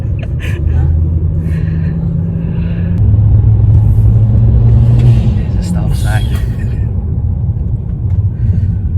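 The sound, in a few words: BMW E90 car driving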